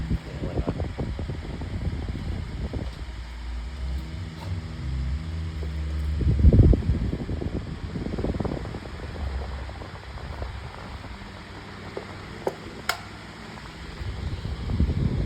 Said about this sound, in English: This is an 8-inch Better Homes and Gardens fan. Let me just go ahead and plug it in.